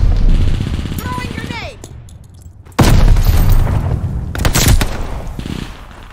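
A grenade explodes in Call of Duty: Vanguard on the Champion Hill map. A loud, sudden blast cuts in after a quieter stretch and is followed by bursts of gunfire and further booms.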